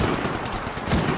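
Rapid automatic gunfire from an Apex Legends Mobile match rattles in a dense, continuous burst, loud and close with no pauses and no talking.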